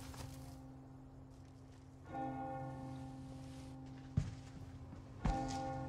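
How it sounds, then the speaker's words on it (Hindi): A church-style bell tolls in the Resident Evil 4 Remake game, a faint ringing with a few resonant strikes and sustained hum, alongside soft footsteps and thuds, with no talk. "घंटी बजते ही।"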